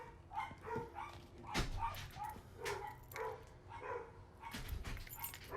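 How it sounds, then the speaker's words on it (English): A dog barks repeatedly at a distance, the sharp yaps spaced irregularly over a steady low background hum, with no talking. "Oh, that crazy dog."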